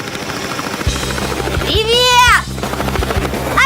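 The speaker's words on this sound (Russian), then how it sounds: "Откуда у вас вертолет?" Cartoon helicopter flying, with a steady rhythmic rotor chop and a rising, whistling tone in the middle, under animated character voices.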